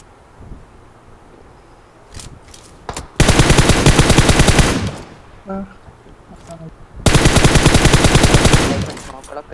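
Automatic gunfire in a first-person shooter video game: two long, loud sustained bursts, each about two seconds, with a few scattered single shots and quieter distant fire between them.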